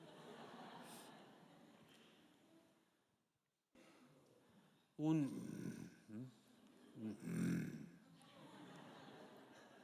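A voice imitates a lion's heavy, raspy breathing in a hall, a few loud rough snorting breaths after a brief silence, with murmured laughter around it.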